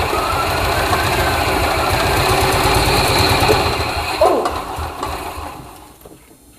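A golf cart engine runs with a rough, rhythmic pulsing close by, then winds down and fades toward silence near the end.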